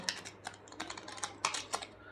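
A deck of playing cards being cut and shuffled for a Teen Patti game, a quiet, close run of light irregular riffling clicks and flicks with short pauses between bursts.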